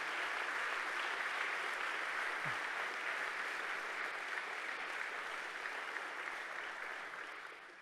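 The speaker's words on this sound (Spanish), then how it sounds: "Den un fuerte aplauso a Jesús por esta palabra" Church congregation claps in a steady, dense round of applause that fills the room, holding strong before gradually fading at the close.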